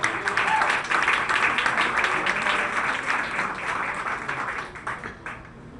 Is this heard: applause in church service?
yes